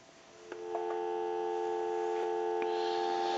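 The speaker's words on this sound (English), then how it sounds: "We'll give you some dial tone," A steady electronic dial tone on a Western Electric Rotary 500 telephone hums continuously, faint and even, with a few small clicks near the start.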